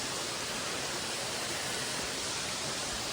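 River and waterfall at Davli near Ratnagiri in the Konkan, giving a steady, even rush of flowing water that stays constant and fairly soft throughout, with no talking.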